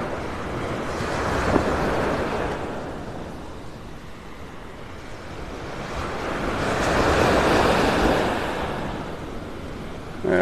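Ocean surf at Vanderbilt Beach in North Naples, Florida, washing in as a steady broad roar that swells twice in slow surges, with wind buffeting the microphone and no voices.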